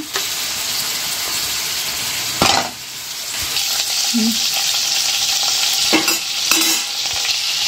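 Food sautéing in oil and butter in a pan, a loud steady sizzle up close, broken by a few stirring scrapes and clanks, with no speech.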